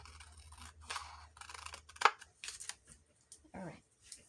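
A few soft, crisp snips of scissors trimming the white edges off paper for a grungy botanical junk journal, heard close and quiet amid light handling rustle, with one sharper cut and brief murmured talk.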